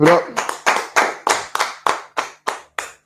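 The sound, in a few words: audience clapping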